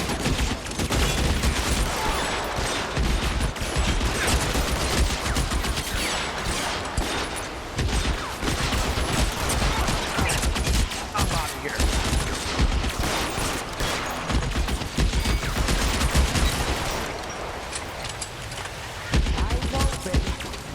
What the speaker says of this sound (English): Oh, but now they're shooting me.